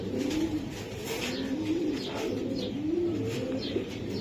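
Tournament-grade pigeons, Budapest and Pakistani breeds, coo in repeated soft throaty phrases, close by and steady, with faint chirps in the background.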